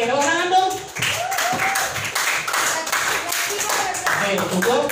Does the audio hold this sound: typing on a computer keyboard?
no